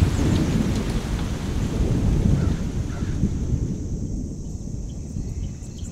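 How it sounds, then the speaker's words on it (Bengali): A heavy nor'wester rainstorm, heard from under a railway shed, with deep thunder booming again and again over a steady roar of pouring rain, loud and close throughout. "নৈরিত কাঁপিয়ে বাজ পড়তে লাগলো ঘন ঘন"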